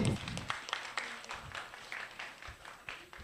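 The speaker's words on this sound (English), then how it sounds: "Let us give a warm round of applause for Douglas Candano." Applause from the audience at a literary book awards ceremony, a moderate, steady patter of many hands that continues through the clip without talk.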